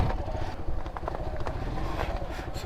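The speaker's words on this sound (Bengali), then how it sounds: "একদম নদীর পার ঘেসে এখন আমি বাইক চালাইতেছি" Motorcycle ridden slowly along a slippery river bank, its steady engine rumble running throughout with faint rattles and knocks, close and moderately loud.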